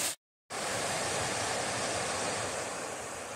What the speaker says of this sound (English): I'll be hearing that beautiful rushing water for the next while